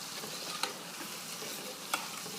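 Flour cooking and being stirred in a frying pan for a roasted bistro chicken gravy, giving a steady soft sizzle with two brief scraping clicks of the spoon against the pan.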